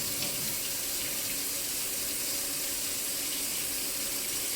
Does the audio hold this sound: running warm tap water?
yes